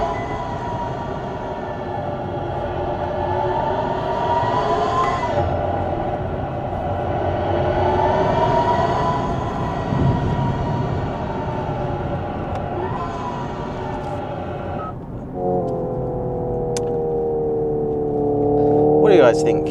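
Synthetic engine sound from a Hyundai IONIQ 5N electric performance car while cornering, a steady layered whine that rises and falls with throttle and simulated gear shifts, loud and continuous with a brief dip near the end.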